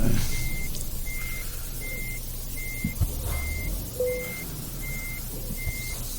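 Reversing alarm on a truck in Euro Truck Simulator 2, backing up to couple a trailer: steady evenly spaced beeps, about eight in six seconds, over a low engine rumble with a brief air-brake hiss.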